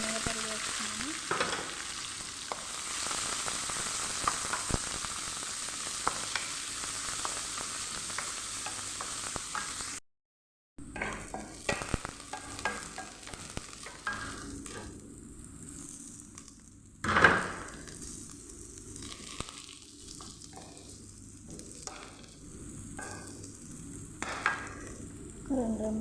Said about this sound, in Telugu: అవి బాగా వేగిన తర్వాత పెద్ద సైజులో ఒక ఉల్లిపాయ, 3 పచ్చిమిరపకాయలు సన్నగా తరిగి వేస్తున్నాను